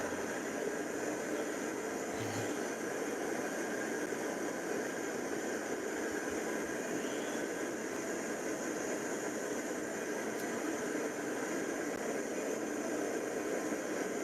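Steady, continuous aircraft engine drone at idle while taxiing in Microsoft Flight Simulator 2024, leaving Atlanta for Knoxville; an even broadband hum at constant level with no talk.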